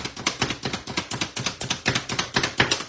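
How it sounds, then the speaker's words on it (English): Rapid, steady chopping from an electric food chopper over twenty years old: about a dozen crisp strikes in quick, even rhythm, close up, with no talking. "gonna grab my trusty 20-something-year-old food chopper"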